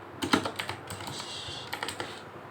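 Someone types an SQL update command on a computer keyboard, a run of crisp key clicks in uneven bursts with short pauses, close and clear without talking.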